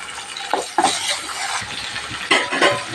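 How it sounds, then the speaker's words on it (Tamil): Tomatoes and other vegetables sizzle and hiss in a hot pan while a utensil stirs and scrapes, with occasional metallic clinks, close and fairly loud. "எல்லாத்தையும் போட்டு நல்லா நம்ம வதக்கிக்கணும்."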